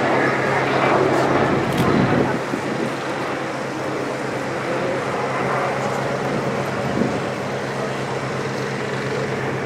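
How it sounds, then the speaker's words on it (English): Avro Vulcan XH558 bomber flying back toward the crowd at an air display, a broad, steady roar that swells loud early and then holds as a sustained rumbling wash of jet noise. "So Vulcan coming back in towards us."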